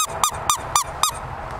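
Squirrel hand call with the top hole covered by a finger, giving five evenly spaced sharp squeaky-toy chirps, close and loud, alone.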